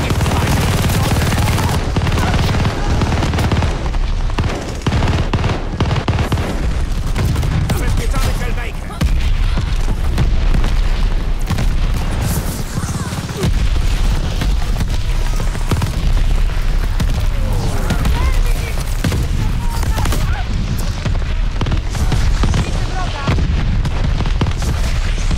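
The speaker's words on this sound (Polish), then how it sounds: "Nasi wezwali ostrzał z moździerza." Mortar barrage in the shooter Call of Duty Vanguard: a continuous rumble of booming blasts and scattered gunfire, dense and loud throughout, with voices faintly mixed in.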